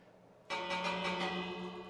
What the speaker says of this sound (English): ring the bell for good luck